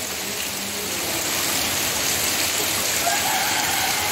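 A rain shower in Sunderland, with dense, even hiss of falling rain that stays steady and fairly loud throughout.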